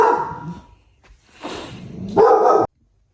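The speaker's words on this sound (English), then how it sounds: "we are done barking at the mailman" A dog barks at a mailman who has just arrived: three bursts of loud, close barking separated by short pauses, the last one the strongest, with no one speaking.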